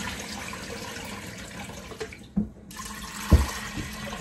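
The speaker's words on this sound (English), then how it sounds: "So I'm washing it." Hominy corn is washed under running water, with a steady close rush from the tap that breaks off briefly, then returns with a splash and a thud as the kernels are handled.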